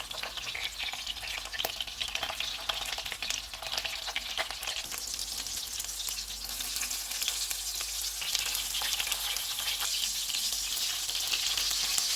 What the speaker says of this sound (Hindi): इस तरह से तैयार करके इनको फ्राई कर लेंगे।